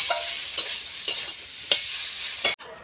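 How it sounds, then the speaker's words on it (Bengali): A fish head frying in oil in a pan in a home kitchen, a steady bright sizzle with a few sharp spitting pops, close and fairly loud, cutting off abruptly near the end, no talk. "এখন মাছের মুড়ো ভেজে আবার দিব"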